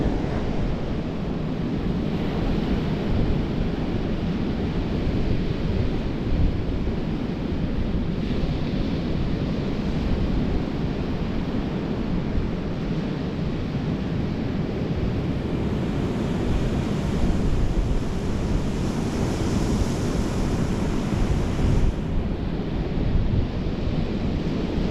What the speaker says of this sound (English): that wind is really hampering my cast